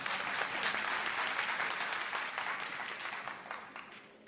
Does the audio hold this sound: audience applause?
yes